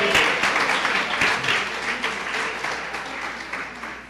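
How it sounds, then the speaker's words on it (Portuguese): A church congregation applauding steadily, dense clapping that stays loud throughout and fades slightly toward the end. "Você merece uma salva de palmas."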